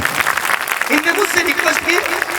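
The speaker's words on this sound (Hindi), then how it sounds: "इनके लिए जोरदार ताली बजाओ" A crowd at a Bhagwat Katha religious gathering in a village claps loudly and steadily, with a voice audible over the applause.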